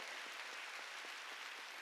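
A church congregation at Sunday worship claps together, a soft and steady wash of applause heard from a distance and sustained evenly throughout, with faint rhythmic pulses beneath it.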